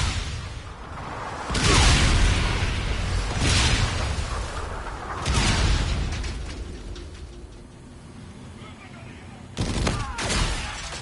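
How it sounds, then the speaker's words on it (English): Repeated heavy explosions from a Trinity rocket strike in an online shooter, several loud booming blasts with rumbling tails spaced a few seconds apart, mixed with crackling debris and gunfire. "Enemy Trinity rocket in use."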